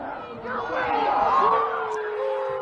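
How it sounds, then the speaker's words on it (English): Spectators at a 2022 1A high school football semifinal in Enterprise roar in a sustained, loud wave of disapproval after a roughing the passer call, swelling midway and fading slightly, with a commentator talking over it. "As you can hear the Enterprise crowd, they don't like it."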